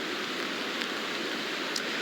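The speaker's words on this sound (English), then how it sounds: "Steve and Kirsten, we've seen some steady rain and some wind out here." Steady rain falls outdoors in a flood-prone valley during Tropical Storm Hilary in the San Diego area, a dense continuous hiss with wind and no talk, a couple of faint drips standing out.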